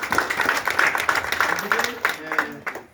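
A church congregation clapping together in a steady, even rhythm, many hands close and lively, a few voices mixed in, fading out toward the end.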